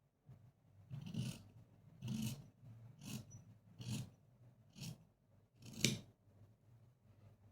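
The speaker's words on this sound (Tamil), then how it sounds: "இப்போது பெல்ட் பார்ட்டை கட் பண்ணிக்கிறேன்." Scissors cut through blouse fabric during tailoring in six distinct, close snips spaced about a second apart, each a crisp rasping crunch of blades closing.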